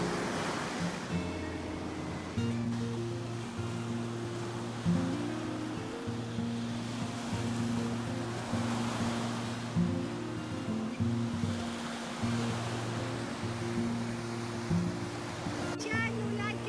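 Ocean waves wash steadily onto a Hawaii beach, a continuous broad roar of surf with gentle swells, accompanied by a low, rhythmic humming tone throughout.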